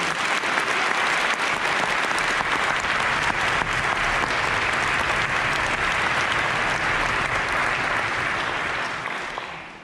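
Steady, dense applause from a theater audience fills the space, loud and continuous before tapering slightly at the very end.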